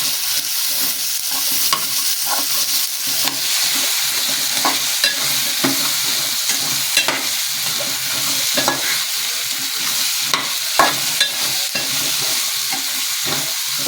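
Drumsticks and potatoes sautéed with homemade spices in a pan, a steady loud sizzle broken by repeated scraping stirs in an uneven rhythm, close and without voices.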